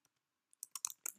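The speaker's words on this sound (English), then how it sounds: "if I can type properly" Fingers type on a computer keyboard: a short run of quiet, close clicks and taps after a near-silent start, with no talking.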